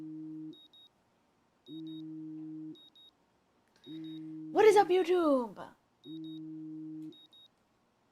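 A household alarm keeps beeping in regular two-tone bursts about a second long with short gaps between them, clear and close, and a voice speaks over one burst.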